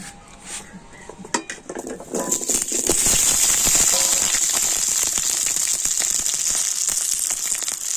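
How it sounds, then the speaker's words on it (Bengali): Round slices from two potatoes go into hot oil and set off a steady, loud sizzle, which follows a few clinks and clatters of utensils against the pan. "তেলের উপরে প্রথমে আমি আলুগুলো ভেজে নেব"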